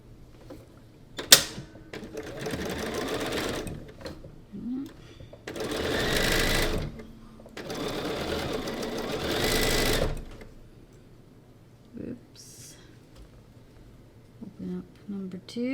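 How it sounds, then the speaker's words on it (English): A sewing machine stitches a quilt block in several bursts of rapid mechanical whirring, a short stop-and-start run first and then two longer passes, with quiet pauses and brief speech between them. "I'm going to grab the block from row 1, and we'll sew this one all the way down"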